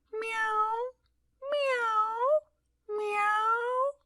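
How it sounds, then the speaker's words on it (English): A cat meows three times in long, drawn-out calls heard through an open window at night, each cry about a second long and evenly spaced, clear and close with silence between. "Through an open window we hear meow"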